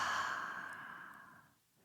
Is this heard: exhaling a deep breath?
yes